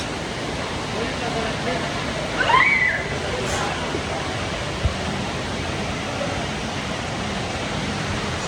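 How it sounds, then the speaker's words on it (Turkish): Rushing river water carrying a person downstream in the Philippines, a steady loud broadband roar with splashing throughout, plus a short squeal-like sound rising briefly above the flow. "Burada şimdi kendimi suya bırakacağım. Ve su beni götürecekmiş."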